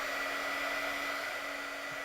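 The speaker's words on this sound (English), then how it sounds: "So we're gonna use the heat gun." A heat gun or hair-dryer-style blower runs steadily while heating a Whirlpool refrigerator door gasket, giving a continuous close airy whoosh with a constant motor hum and no talk.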